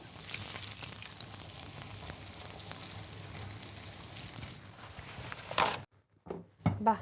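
Food bubbles and sizzles steadily in deep oil for several seconds, a dense close hiss that cuts off abruptly near the end, followed by a few brief handling knocks.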